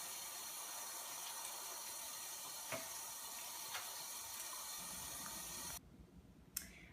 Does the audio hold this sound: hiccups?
no